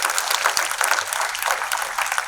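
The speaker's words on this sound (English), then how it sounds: "I'm going to ask you to break that silence by giving yourselves a round of applause." An auditorium audience claps steadily throughout the trailer launch of the film "Sam Bahadur", attended by the Indian Army chief, General Manoj Pande. The dense, sustained applause carries no talk over it.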